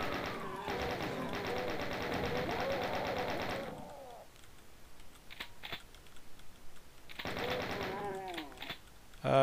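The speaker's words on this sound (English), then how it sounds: "we've been rewarded with the chain gun" Doom's chain gun fires in long rapid bursts, loud and close, with a pause and scattered clicks between the two volleys.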